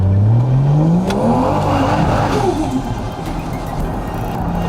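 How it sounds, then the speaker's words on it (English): A Ford XR6 ute engine revs loudly with heavy intake roar, pitch sweeping upward in one long continuous climb before settling into a sustained high, busy drone, close and alone. "it's a lot of intake noise there"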